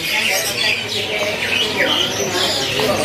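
A caged becu songbird at a bird market kiosk sings repeated bright chirping phrases over a busy background murmur, with a voice talking faintly underneath.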